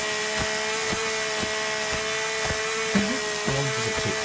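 A chainsaw in the video game The Forest runs with a steady high motor whine and evenly spaced ticks about twice a second, plus a couple of brief wavering pitch changes near the end, with no talk.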